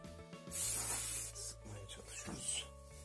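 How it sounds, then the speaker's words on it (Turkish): Silicone lubricant spray for a treadmill belt hisses from an aerosol can in one sustained burst near the mic, followed by softer rubbing and shorter hissing bursts. "Koşu bandı silikon spreyi var."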